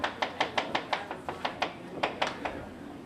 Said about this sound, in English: And then we slice it in half.